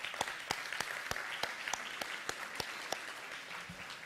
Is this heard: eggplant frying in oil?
no